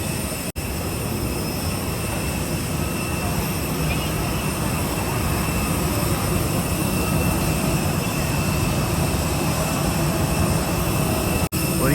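Jet aircraft at DMK International Airport in Bangkok give a loud, steady roar that fills the whole stretch without letting up, with no talk over it.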